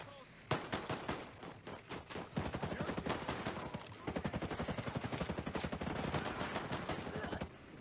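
Sustained automatic gunfire in Ghost Recon Breakpoint, with long loud bursts of rapid, evenly spaced shots that break off briefly around the midpoint and then resume, continuing nearly to the end.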